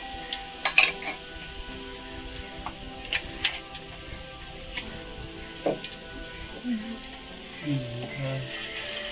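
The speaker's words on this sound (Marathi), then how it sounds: "लसूण एकदम तांबूस कलरचं होईपर्यंत आपल्याला करत राहायचं, परतवत घ्यायचं." Garlic being stir-fried on a wood-fired clay stove, a steady sizzling hiss with scattered clicks and ticks of stirring throughout, fairly loud and close, no talk.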